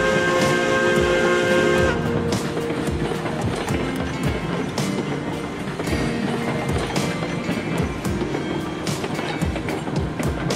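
A train in the Railroads Online game rolls into a rail yard, its wheels clicking rhythmically over rail joints with steady rumbling and clanking. A brief tonal whistle or brake squeal sounds at the start.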